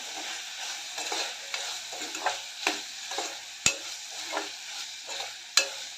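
Potatoes and finely crushed garlic sauté in a hot pan, a steady close sizzle broken by repeated scraping stirs and a couple of sharp spatula clicks against the metal.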